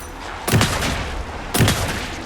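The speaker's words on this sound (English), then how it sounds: "Anderson, pin him down with gunfire for me to get the light on him" Two loud bursts of gunfire in the video game Alan Wake 2 about a second apart, each a sharp crack trailing into a rumble.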